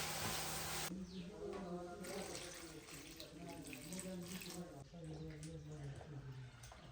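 Water runs from a tap into a sink or bowl while soybeans are swished and rinsed in it, with a person talking over the sound.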